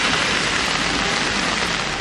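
Heavy rain pours steadily in Tamil Nadu, a dense, loud, unbroken hiss of water hitting surfaces with no pauses or voices.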